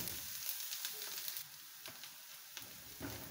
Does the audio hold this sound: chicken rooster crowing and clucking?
no